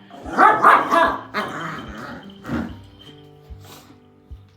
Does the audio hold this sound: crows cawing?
no